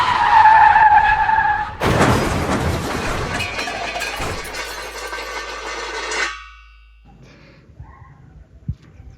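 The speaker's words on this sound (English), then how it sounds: "this extremely well-directed version of a car crash inducing whiplash" Loud skidding car tyres screech for under two seconds, then a dense crunching crash of metal and debris rings out and decays, followed by scattered faint clatter, a staged car crash sound effect with no talk.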